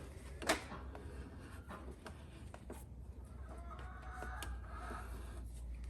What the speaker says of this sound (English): Excuse the noise of the chickens.